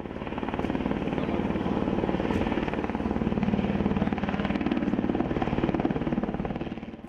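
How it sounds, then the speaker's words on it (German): Helicopters circling over the Riedbergpass in the Oberallgäu during a firefighting drill with about 100 firefighters, a steady rhythmic rotor thump that stays loud and constant throughout without speech. "Hubschrauber kreisen über dem Riedbergpass."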